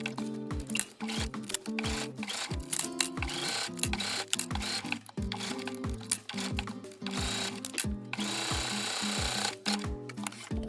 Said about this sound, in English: Finally, sew a top stitch about 1/8 of an inch from the edge where the bias tape meets the fabric.